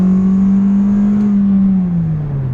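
A car with a knocking engine, treated with engine restore, revs hard in first gear toward the red line. A loud, close, sustained engine drone holds steady, then eases off at the end.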